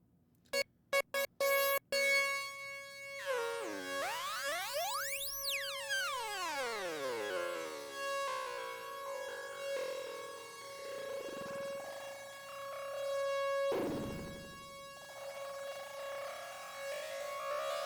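Korg Radias synthesizer played through comb filters: a few sharp plucks, then loud, metallic sweeping pitch glides that rise and fall, settling into sustained resonant buzzing tones with a sudden burst near the end, with no talking.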